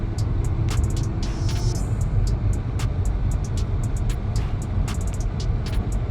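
A 2023 Volvo S60 Core Edition on a test drive, its steady low road and engine rumble heard from inside the cabin, with faint intermittent clicks over it and no talking.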